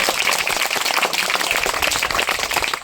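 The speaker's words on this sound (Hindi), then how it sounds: "ताली बजाओ, ताली बजाओ, ताली बजाओ, उठाओ और ताली मारो जोर से।" A village crowd at a street magic comedy show claps hard on cue, a fast, dense, continuous patter of many hands that holds at full strength throughout with no talk over it.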